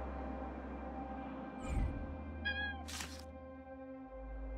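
A cat meows in the video game Honkai: Star Rail, a few short mews over a low game music bed, with a soft thump partway through.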